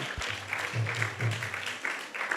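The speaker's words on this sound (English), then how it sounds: "Let's give him a big round of applause." Audience applause at a Bhagavad Gita class after a devotional kirtan, a steady broad patter of clapping lasting a couple of seconds under a low sustained drone.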